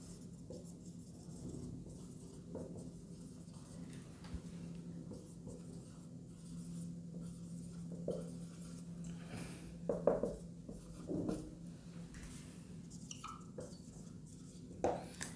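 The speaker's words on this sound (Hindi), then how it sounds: "जैसे हम अगला क्वेश्चन इसका लिख रहे हैं बोर्ड पे, ध्यान दीजिए।" A marker or chalk scratches and squeaks on a classroom board as a question is written out, faint strokes coming in irregular bursts over a low steady room hum, with no voices.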